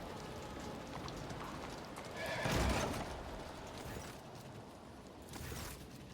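A horse in a video game whinnies loudly in the middle, then neighs again more briefly later, over a steady background of ambient noise.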